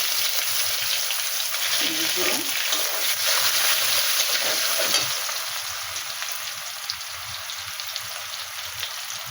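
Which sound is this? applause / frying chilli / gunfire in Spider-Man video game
frying chilli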